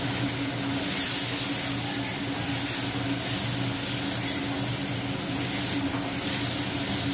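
Prawns frying in hot oil give a steady, loud sizzle and hiss that runs unbroken throughout, close by with faint stirring and no talking.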